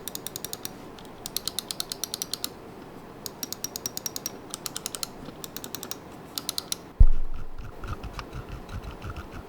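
Buttons on a GravaStar Mercury M1 Pro wireless gaming mouse clicked in rapid bursts of sharp, close ticks over faint room hiss, ending with a single dull thump.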